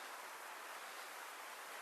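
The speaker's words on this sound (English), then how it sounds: "down there you can hear the rivers running" A river rushes in a creek below an old classic car graveyard, heard as a faint, steady broadband wash with no breaks and no voices.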